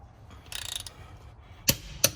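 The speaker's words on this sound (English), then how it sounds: "So I'm gonna torque them down to 150." A torque wrench set to 150 tightens the wheel lug nuts on a 2020 Ford Mustang GT350: a brief burst of ratcheting, then two sharp, close metallic clicks about a third of a second apart.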